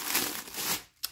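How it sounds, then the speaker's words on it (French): Soft crinkling of paper, a brief rustly burst that fades, then one short crisp crackle right after. Close and fairly quiet, with no talking. "désolé pour le bruit de papier"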